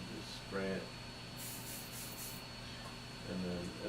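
Cleaner is sprayed onto a surface just wiped down with rubbing alcohol: two short, soft spray hisses, one near the start and one near the end, over quiet room noise with a faint hum.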